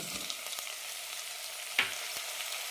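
Brinjal and chopped tomatoes fry in a pan, a steady crackling sizzle broken by a few sharp scrapes and taps of stirring, close and fairly quiet.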